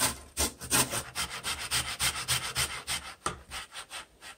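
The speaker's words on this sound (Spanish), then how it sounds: "vamos a rayar la pepa del aguacate o la semilla" An avocado seed is rubbed over the finest side of a hand grater, giving a steady series of dry, rasping scrapes in a quick back-and-forth rhythm, close and fairly loud with no talking.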